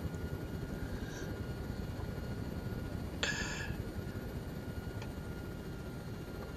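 A Cobra helicopter engine in a video game set at Lumphat: a steady, faint, droning whir that runs unbroken, with a brief brighter chirp midway and no talking.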